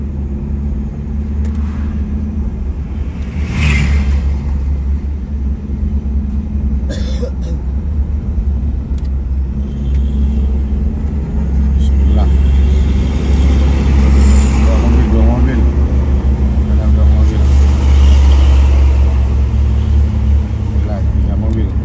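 Cars and trucks rumble past at close range on the winding Camba mountain road between Maros and Bone, a steady low engine drone that swells louder in the second half while the driver overtakes.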